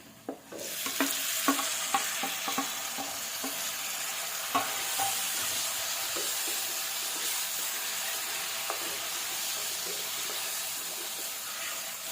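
Onions and garlic sizzle steadily in a hot pan while cooking bitter gourd thokku, with a run of quick spoon-stirring clicks and scrapes early on; no voices.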